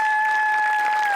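Audience applause at a Marathi comedy show, a brief burst of crowd clapping with a steady held tone running underneath.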